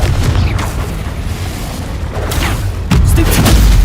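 Booming blasts from a Confringo explosion spell in a Harry Potter video game, heavy and loud amid a dense roar of battle, with a sharp burst near the end.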